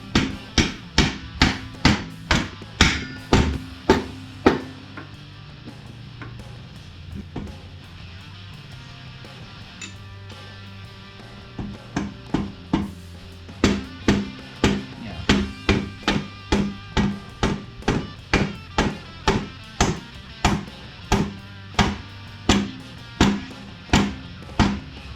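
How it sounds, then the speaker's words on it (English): A hammer taps a bolt through the swing arm of a YZ250F motorcycle, producing rapid, evenly paced metallic strikes in two long runs separated by a short pause, loud and close. "Tap it on in."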